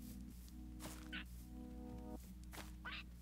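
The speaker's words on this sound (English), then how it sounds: "Oh, the little flapping noise for the wings!" Several quick soft whooshes of flapping wings come in short bursts over gentle sustained background music, fairly quiet and close.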